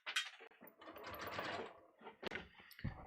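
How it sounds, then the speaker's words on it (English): A sewing machine runs in a steady whirring burst as it stitches a shirt, close by and moderately loud, then stops and gives a few short mechanical clicks. "And then I'm going to sew this."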